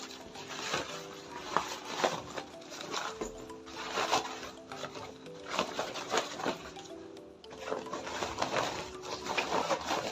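A sewing machine stitching the handle of an Ankara fabric shoulder bag, running in short rhythmic bursts with brief pauses, fairly faint and close.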